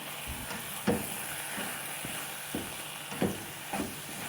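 Grated bottle gourd roasting in a pan for halwa over a low flame makes a soft, continuous sizzle with a few faint scraping stirs, heard up close and without talking.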